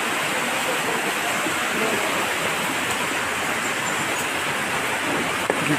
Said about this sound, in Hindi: पहाड़ से गिरते आ रहा पानी।